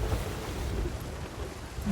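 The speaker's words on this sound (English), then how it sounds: "So now they're firing their cannons at us." Skeleton cannon fire in the Sea of Thieves video game at sea during a thunderstorm, heard as heavy low rumbling booms over a constant wash of rain and stormy noise.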